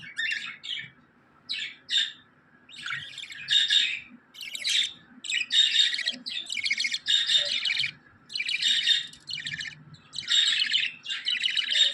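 Pet birds, a male-female pair with their chick, chirp and squawk in repeated bursts, fairly close and continuous with brief pauses, with no talking.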